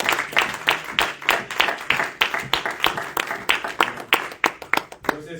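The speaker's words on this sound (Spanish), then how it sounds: "Vamos a dar un aplauso al Señor." A church congregation claps in a steady rhythmic beat, the hand claps close and evenly spaced like clapping along in time, with a little crowd murmur underneath.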